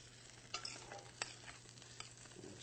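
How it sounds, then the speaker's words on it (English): Blueberries being stirred around a frying pan, with soft scraping and scattered light clicks over a faint low sizzle, quiet and close, no talking. "Stir them around."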